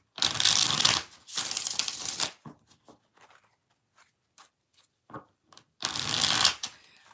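Tarot cards are shuffled in quick riffling bursts, three loud close-up flurries separated by quieter gaps with soft card handling in between.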